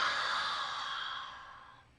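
A voice breathes out a long, airy, unvoiced "ah" for a voice-training breath exercise. The exhale is steady, close and breathy and fades toward the end, with no spoken words.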